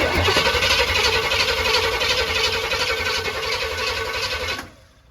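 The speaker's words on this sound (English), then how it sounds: "He can start this Jeep." Jeep with a swapped Chevrolet V8 small block engine cranking and firing, a loud, rough, continuous rumbling roar close by that runs for several seconds before cutting off abruptly.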